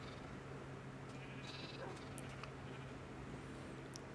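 Sheep bleat in Minecraft over a steady hum of background game sound, with a few faint, brief calls of moderate distance and no talking.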